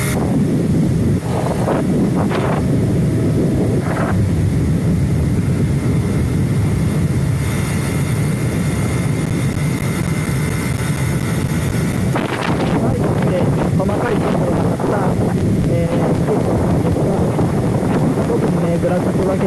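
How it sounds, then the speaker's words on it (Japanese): A motorcycle cruises on an ordinary paved road, with a steady, loud engine drone and heavy wind rush buffeting the microphone throughout. Someone talks over the noise. "今ね、バイクで普通の舗装路走ってるんですが"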